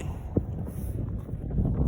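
Strong wind in snowy Hokkaido mountains buffets the microphone as a low, rumbling roar that rises and falls in gusts, with one sharp knock early on.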